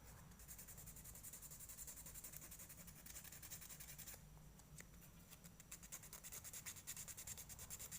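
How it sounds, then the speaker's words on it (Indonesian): Sandpaper rubs steadily against a small handmade fishing lure, a continuous close scratchy grinding with brief pauses in the strokes, no talk over it. "Kalau kita menggunakan amplas yang lebih besar kan makannya juga lebih besar, otomatis nanti kikisannya tuh kebanyakan"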